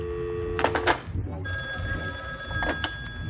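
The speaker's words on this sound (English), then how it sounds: "My other phone is ringing." A telephone rings twice in short electronic bursts in a scene from a 1978 sci-fi film, with low background rumble and a steady high tone between the rings.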